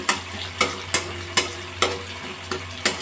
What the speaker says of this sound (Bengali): গোবিন্দভোগের চাল দিয়ে আমি এক মিনিট একটু ভাজা ভাজা করে নেবো